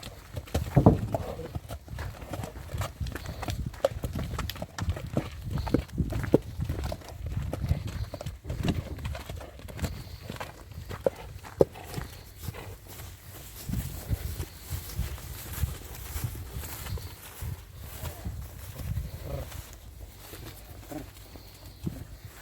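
A mare's hooves clop on the ground in an uneven walking rhythm, close and moderately loud, with some soft rustling and faint background activity.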